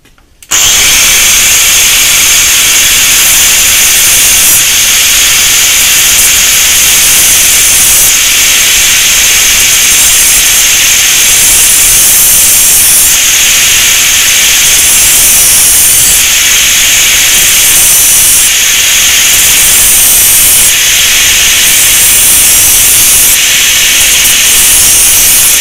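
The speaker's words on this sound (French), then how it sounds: "Et on vient couper. Donc la meule d'angle tout simplement." Angle grinder cutting a metal lathe tool bit held lightly in a vise, a loud continuous high-pitched whining grind with steady hiss that runs unbroken for the whole stretch, no talking.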